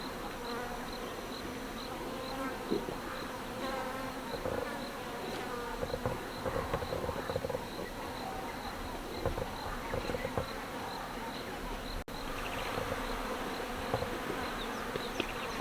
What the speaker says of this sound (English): you must hear the swarm of flies that just took off there